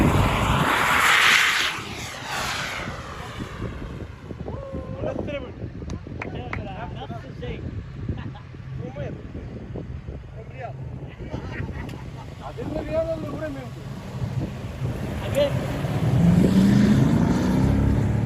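Vehicle engines roar as an off-road SUV such as a Fortuner, FJ Cruiser, Prado or Cherokee climbs a huge desert dune at night, a continuous rumbling drone that swells toward the end, with people talking over it.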